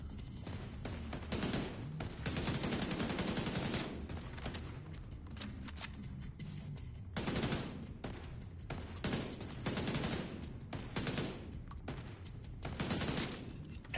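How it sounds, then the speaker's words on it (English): Rapid bursts of gunfire from The Division 2 video game, sustained automatic volleys with short pauses between them, loud and dense with no talking over it. "I shot like 30 times"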